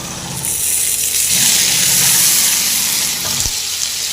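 Curry leaves sizzle and crackle in hot oil for a pickle, a loud, bright frying hiss that swells after they hit the pan, with some stirring clatter near the end.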